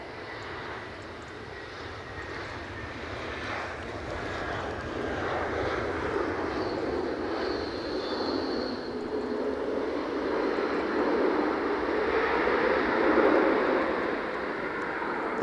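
An inbound JetBlue airliner at Edinburgh Airport on a blowy, stormy day produces a steady, distant engine roar that slowly swells in loudness, with no voices.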